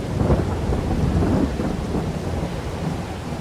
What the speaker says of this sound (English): And it started raining around 8 o'clock.